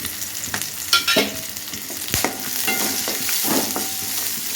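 Onion and cashews frying in a pan for beetroot kola urundai, a steady close sizzle with a few sharper stirring clatters and spatula scrapes, no voices.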